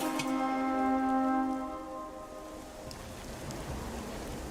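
Rain falling in the video game Gothic 1 Remake makes a steady hiss. A sustained low tonal hum fades out over the first two seconds, and the soft rainfall carries on alone.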